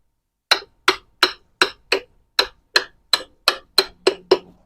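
Work on a stubborn ABS sensor brings about twelve sharp metallic knocks at a steady, slightly quickening pace, close and loud against near silence, each with a short ringing decay.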